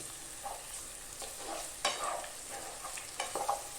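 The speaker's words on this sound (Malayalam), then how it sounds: "ആ സമയത്ത് നമ്മുടെ ചെറിയ ഉള്ളി ഇതിനകത്തേക്ക് ഇട്ടു." Small onions sizzle in hot oil while being stirred in a pan during a soya roast, a soft steady fry punctuated by several short scraping stirs.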